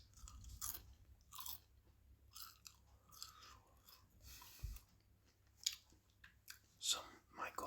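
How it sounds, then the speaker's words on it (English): Close, quiet chewing and crunching of food in an ASMR setting, with soft wet bites and mouth sounds recurring in irregular bursts throughout. "I'll be eating during this video"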